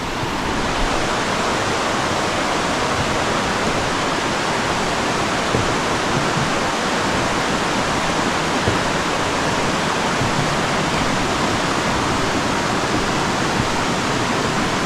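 A swollen jungle river rushes during a crossing, a loud, continuous broadband roar of churning water that holds steady throughout with no voices.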